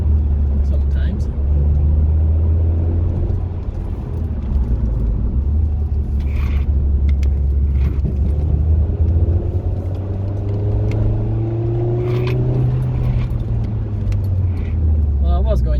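Ford Fiesta ST150 crawling at low speed on a 60 mph road, its engine a steady low drone with a few shifting tones and small interior rattles, with a person talking over it.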